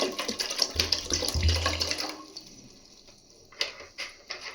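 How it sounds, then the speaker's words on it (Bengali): Water poured into a rice cooker pot for steaming momo, a close splashing stream for about two seconds that then stops, followed by a few light clinks and knocks of the pot. "আমি রাইস কুকারের এই যে পাত্রটা আছে, এই পাত্রটার মধ্যে আমি জল দিয়ে দিচ্ছি"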